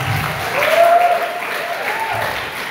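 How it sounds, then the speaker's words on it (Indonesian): A school audience at SMA Negeri 2 Lubukpakam applauds during a human-rights and religious moderation outreach event, steady clapping that swells and holds for a few seconds, with a faint tone ringing over it. "Tepuk tangan untuk SMA Negeri 2"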